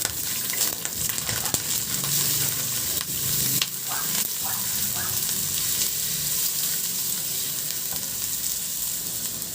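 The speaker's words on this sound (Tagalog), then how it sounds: "Igisa ko muna yung bawang." Garlic sautés in a pan while stir-frying pechay and canton, giving a loud, steady, close sizzle throughout with a few faint stirring clicks and scrapes over it.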